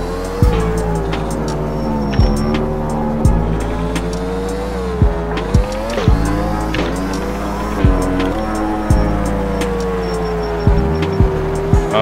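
Yamaha YZR-M1 racing motorcycle in GP Bikes, a loud close engine note that climbs and drops sharply at each gear change, repeated quick shifts in a steady rhythm with brief revving bursts.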